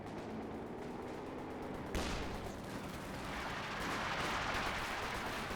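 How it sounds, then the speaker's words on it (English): Incendiary mortar barrage in Company of Heroes 2, with dense rumbling artillery bursts and crackling gunfire rolling continuously, a sharp impact near the two-second mark and the roar swelling louder toward the end. "Incendiary mortar, incendiary barrage now being brought on in."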